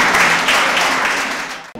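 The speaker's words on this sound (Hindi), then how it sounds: "एक बार जोरदार ताली" Audience applause at an open mic comic poetry night, a steady dense wash of clapping filling the room, fading slightly before cutting off near the end.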